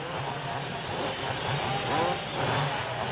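Motocross bikes rev together at the starting gate of a 1980s dirt-track race, a loud, continuous wall of engine noise that rises and falls as the riders blip their throttles.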